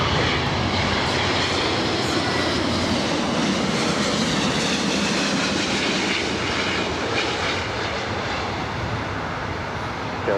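An Air Canada heavy Airbus on short final to runway 24 right at LAX gives a loud, steady broadband jet roar that holds without a break for about ten seconds, with no talk over it.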